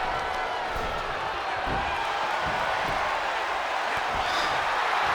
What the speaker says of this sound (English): The crowd are booing heavy for this one.